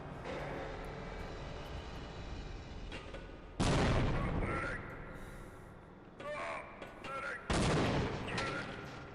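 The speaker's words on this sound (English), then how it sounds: "I gotta toss a grenade up there without triggering the elevator." Grenades explode in the Half-Life video game, two loud booming blasts a few seconds apart over a quieter background of game ambience and mechanical hum.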